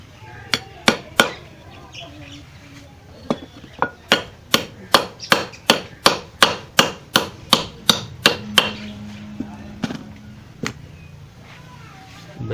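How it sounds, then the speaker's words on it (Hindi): Metal hammering as a greased bearing is driven into an electric motor's end cover during rewinding, a long series of sharp ringing blows in fairly steady rhythm, close and loud, thinning to a few lighter taps. "बैरिंग ग्रीस हो चुका है और अब हम इसे इस तरह से ठोक देंगे।"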